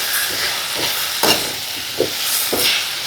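Stingray fish pieces hit a hot frying pan with ginger paste, turmeric, chili and salt, giving a loud, steady sizzle and hiss with a few scraping stirs on top, no voices.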